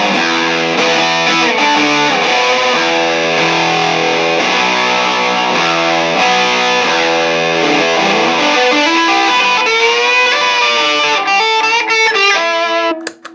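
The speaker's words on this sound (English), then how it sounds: "I'm going to turn the distortions up to midnight. This is the vintage on the left." Heavily distorted electric guitar through a vintage Rat reissue distortion pedal set at midnight plays a continuous riff of chords and notes, loud and saturated, ending abruptly.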